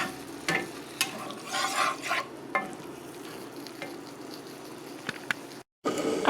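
A leftovers breakfast scramble fries and sizzles in a pan, stirred with scraping strokes in bursts, close up and fairly loud, with no voices.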